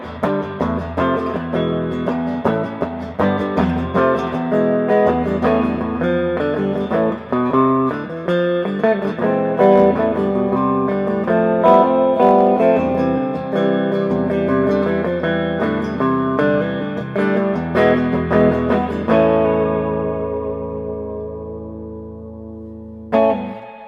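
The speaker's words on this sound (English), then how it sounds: "Very versatile guitar. And you've got whammy to your heart's content." A 1966 Silvertone electric guitar, model 4039H1454, plays loud, sustained chords and riffs through effects with heavy whammy-bar pitch bends and reverb, running steadily before a final ringing chord that fades out.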